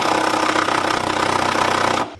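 A turbo Honda Civic engine's crank pulley is tightened with a dense, continuous mechanical whirr, likely a power tool, running loud and close for about two seconds before cutting off abruptly.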